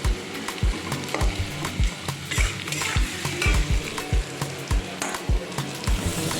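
Potatoes and cabbage with turmeric stirred in a pan for a vegetarian cabbage dish, a spoon scraping and knocking in a steady rhythm of repeated strokes over a close, continuous sizzle.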